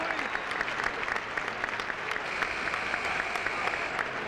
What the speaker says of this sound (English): Gets a good hand from the crowd here as he bumped his head.